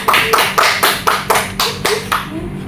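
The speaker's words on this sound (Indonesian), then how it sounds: "beri aplaus dulu buat Bapak ya" A small classroom group gives a teacher a short round of applause, about eight loud, close, rhythmic claps in quick succession.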